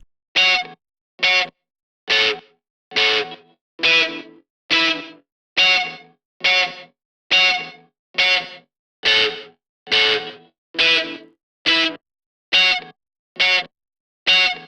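Electric guitar played through a Waves Voltage Amp with room reverb turned up: a steady series of about seventeen short, distorted, bright chord stabs, evenly spaced, each ending abruptly in silence.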